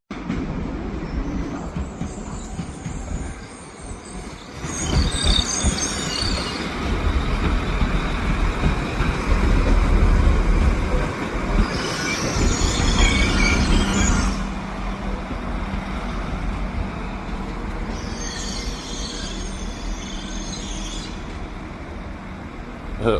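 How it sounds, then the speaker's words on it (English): Train at Leeds station with squeaky brakes: a rumbling approach with bursts of high screeching from the wheels and brakes, loud and close, easing off between squeals. "A lot of squeaky brakes today,"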